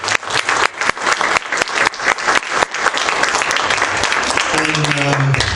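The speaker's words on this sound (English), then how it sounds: "let's give them a big round of applause" A crowd at a Muslim Student Association event at CMU claps enthusiastically, starting in bursts and building to sustained applause, with some voices and a tone appearing near the end.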